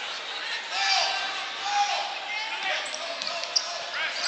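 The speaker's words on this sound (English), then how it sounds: "That's a double dribble." Basketball dribbling on a high school gym court, Emporia High against Shawnee Mission North, with squeaking sneakers and crowd noise and a commentator talking over the whole play.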